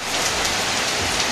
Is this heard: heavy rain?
yes